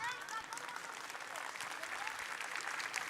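Applause rising in a talk on emotions by a speaker, a dense crowd patter that continues throughout, with a voice briefly audible at the start.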